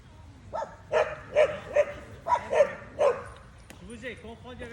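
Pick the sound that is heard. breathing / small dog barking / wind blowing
small dog barking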